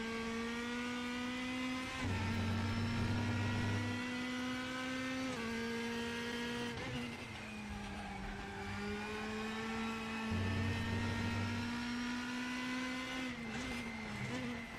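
An Opel DTM 2002 race car engine in the RaceRoom racing game, a loud buzzing drone that repeatedly drops in pitch in sharp downshift steps and then climbs again, with no talk.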